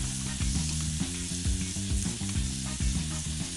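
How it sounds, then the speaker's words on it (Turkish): Minced meat and garlic fry in a pan with a dense, close, continuous sizzle, crackling and popping over a low hiss, while a utensil stirs and scrapes in short repeated strokes, no voices. "Kıymam sarımsakla güzelce kavruldu."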